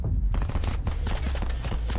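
Rapid submachine gun fire in the shooter game Call of Duty Black Ops 4, a dense, loud barrage of overlapping shots with heavy low-end thump running continuously through the whole stretch.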